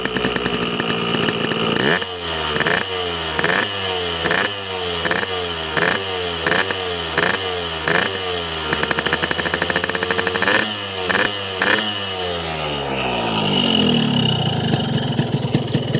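A Kawasaki Ninja two-stroke motorcycle engine running on synthetic racing two-stroke oil, blipped about a dozen times in a steady rhythm, each sharp rev rising and falling, then a longer, higher rev with a rough, smoky exhaust note close to the microphone.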